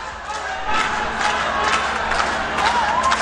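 A large crowd cheers and shouts continuously at the pairs final of the World Puzzle Championship in Valladolid, a dense roar of voices with a few rising whoops, including cheering for Panama.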